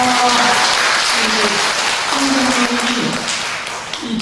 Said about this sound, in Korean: 큰 박수 드리겠습니다